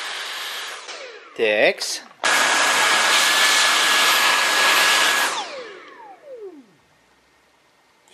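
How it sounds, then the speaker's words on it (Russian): A loud Dyson vacuum cleaner roars steadily for several seconds, then winds down with a falling whine; a brief clatter precedes it and a voice speaks briefly. "Поможет нам в этом пылесос Dyson."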